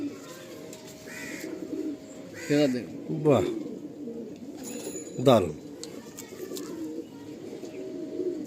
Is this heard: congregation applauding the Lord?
no